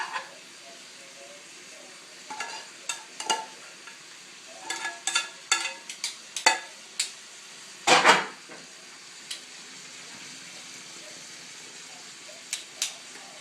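Potato and vegetables stir-frying in a pan, with a steady low sizzle broken by frequent short scraping and clattering stirs, one louder burst in the middle, close and fairly quiet.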